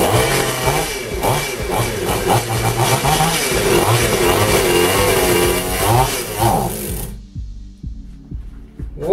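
A petrol chainsaw fitted with a transparent head starts and runs loudly up close, its two-stroke engine buzzing with uneven revving for about seven seconds before cutting out, followed by a few faint ticks and clicks.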